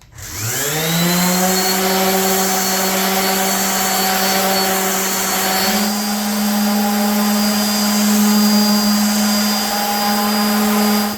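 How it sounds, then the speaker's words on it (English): Power sander running continuously on a walnut tabletop, a loud, steady whine with strong harmonic overtones that holds without a break and shifts slightly in pitch partway through. "So I'm going to sand for a little while."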